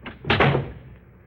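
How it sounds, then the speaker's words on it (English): A room door swings and is slammed shut in one sharp, close bang with a short rattle, then quiet; no voices. "I slammed it."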